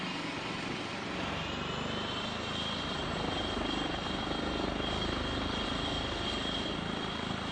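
In the Microsoft Flight Simulator game, an HPG 135 helicopter's turbine engine spools up toward full power, producing a loud, constant high whine and rotor roar that continues without a break.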